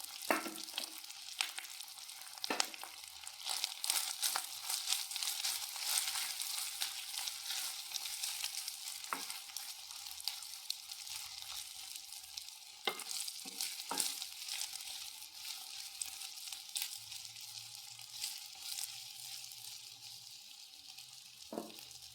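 Curry leaf paste and rice are stirred in a pan, producing a steady close sizzle and scraping hiss with occasional louder spoon knocks against the pan, no voices.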